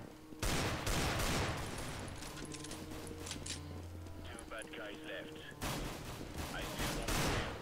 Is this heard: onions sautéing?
no